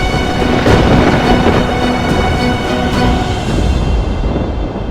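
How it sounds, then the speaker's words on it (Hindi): Dramatic rumble of thunder over Mount Kailash, a devotional TV serial sound effect, rolling loud and continuous for the whole stretch with a dense low roar and no speech. "कैलाश गरज रहा है महादेव।"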